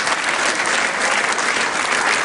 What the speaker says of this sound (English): the crowd really appreciating that